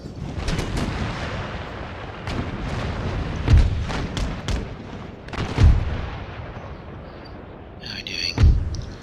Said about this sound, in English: See if the Halifax can give him a broadside.